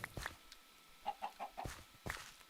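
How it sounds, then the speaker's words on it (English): Chickens in a Minecraft modpack cluck quietly in short, irregular bursts, with a few sharper squawks scattered among them and no talking. "Come on, chickens."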